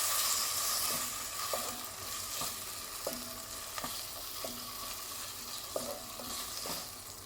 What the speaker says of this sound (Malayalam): ഇതിലേക്ക് നമുക്ക് ഒരു 2 സ്പൂണ് തൈരും കൂടി ചേർത്ത് കൊടുക്കാം. ഇതെല്ലാം കൂടി നന്നായിട്ട് യോജിപ്പിക്കാം.